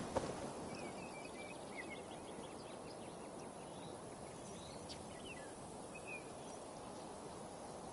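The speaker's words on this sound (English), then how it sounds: "No sound but the birds and the wind in the grass." Outdoor ambience in Assassin's Creed Valhalla: a steady soft wash of wind through grass with scattered faint bird chirps and songs in the background throughout.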